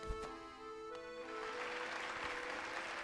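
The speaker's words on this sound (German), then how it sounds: "Höre den Applaus der Menge" A crowd applauds after a boss fight in the Hollow Knight video game, with steady, faint clapping rising after a few melodic tones fade.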